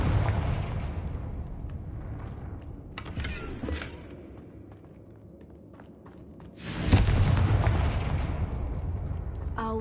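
A Confringo blasting spell explodes in Hogwarts Legacy, with heavy booming bursts and a rumbling blast that trails off, then a second loud explosive surge with lingering crackle.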